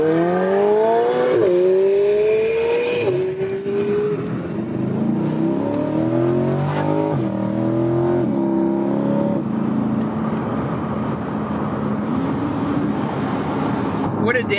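A sports car engine revs hard and climbs in pitch through several rising sweeps and gear changes, loud and close, with people talking over it.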